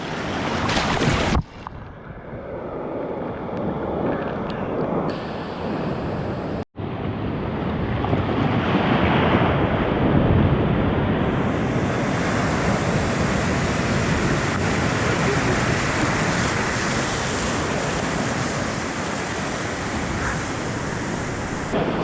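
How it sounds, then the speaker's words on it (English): Ocean surf breaking on a beach in Tenerife where people are bodyboarding, a loud continuous wash of waves with heavy wind noise on the microphone, close and steady with no talk. "The waves have died off a little bit"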